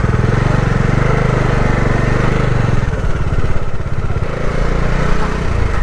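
A motorcycle on a night ride along the road to the Velas turtle festival, its engine droning loud and close with a steady low rumble that shifts pitch midway as the rider changes speed.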